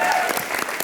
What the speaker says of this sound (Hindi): मैं ये नहीं कह सकती कि लोग मुझे तालियां और स्टैंडिंग ओवेशन देते हैं, पर मैं आपको दूंगी